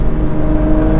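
Turbocharged car fitted with a Pedal Commander throttle controller in race mode accelerating, a steady close engine drone with a rising whir over about a second, no talk.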